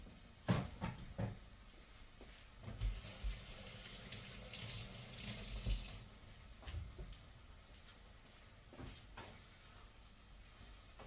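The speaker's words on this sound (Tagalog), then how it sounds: "Yan po, lagyan ko po siya ng tubig." Water poured from a tap into a pot of corned beef during home cooking, several splashy pours and trickles with pauses, fairly close and moderate in level, alone without talk.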